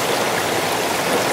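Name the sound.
creek water flowing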